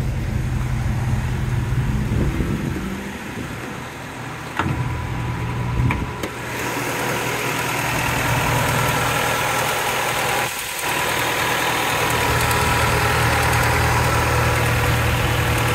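A 1995 Acura Integra Special Edition engine idles steadily with a low, even rumble and faint vibration, briefly interrupted by a few clunks, then settling back into a smooth idle.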